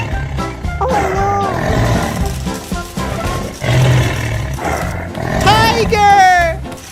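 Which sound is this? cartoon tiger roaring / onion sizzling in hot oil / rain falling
cartoon tiger roaring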